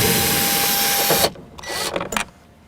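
A power driver whirs steadily for about a second while backing a T27 bolt out of a car door panel, then cuts off, leaving a few light clicks and taps of the loosened part.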